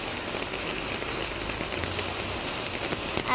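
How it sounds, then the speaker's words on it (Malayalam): Heavy rain pours down under an overcast sky, a dense, continuous hiss of drops pattering on surfaces nearby, steady and fairly loud with no voices. "അപ്പം നല്ല മഴയാണ്, നല്ല മഴ."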